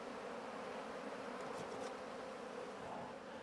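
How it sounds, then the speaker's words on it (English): Dense, steady buzzing of a large number of honeybees around an open production hive during a split, a continuous close swarm drone with no voices. "And we have got a ton of bees."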